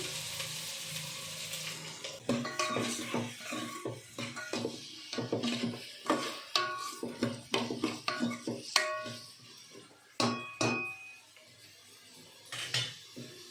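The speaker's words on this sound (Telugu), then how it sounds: "ఉల్లిపాయ ముక్కలు ఫ్రై అవ్వాలి కదా" Onions and green chillies fry in oil in a pan with a quiet sizzle and frequent clinks and scrapes from stirring.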